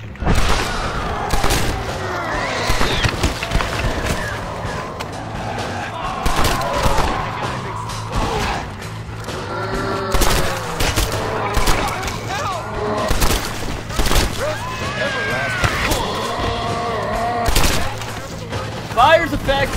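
Gunfire in the Red Dead Redemption: Undead Nightmare video game, with dense overlapping shots and booms running throughout amid game sounds, while a voice talks over much of the action.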